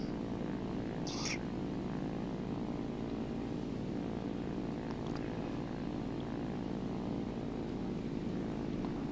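A propeller fighter in the War Thunder video game drones steadily as it flies toward an aircraft carrier to land, a constant dense engine roar that fills the whole stretch without letup.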